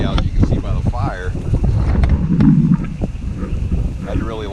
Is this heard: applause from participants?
no